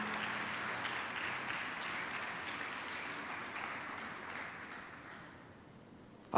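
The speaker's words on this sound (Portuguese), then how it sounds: "Quero ouvir um glória a Deus e um aplauso ao Senhor bem forte." A church congregation applauds in praise during a family service, a soft, distant wash of clapping that holds steady and then fades away near the end.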